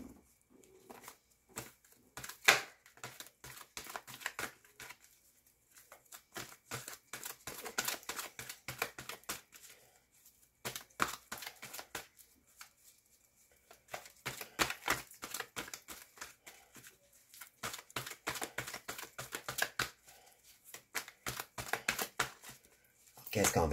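Tarot cards being shuffled and drawn from the deck, a fast papery riffling and tapping that comes in bursts, pauses and starts again, fairly close and quiet.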